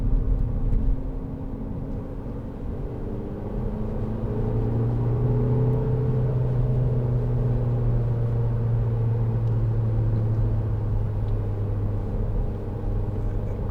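A 2010 SEAT Leon 2.0 TD FR diesel hatchback cruises in third gear, giving a steady, loud low engine drone and road rumble from inside the cabin, with a slowly rising tone partway through and no voices.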